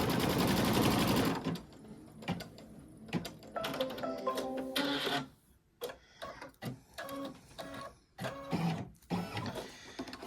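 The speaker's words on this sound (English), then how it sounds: "now you're going to stitch the trimming placement line for the next side." An embroidery sewing machine stitching a trimming placement line for a bookish coaster, with a rapid mechanical whirring and needle chatter that starts loud and dense, then continues in uneven stop-start bursts.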